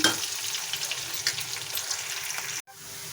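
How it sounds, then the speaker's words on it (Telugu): Sliced onions fry in oil in a cooking pan until reddish brown, ahead of making dal khichdi. A steady, close sizzle runs throughout and briefly cuts out near the end before resuming. "ఉల్లిపాయలు బాగా వేగిపోయాయండి"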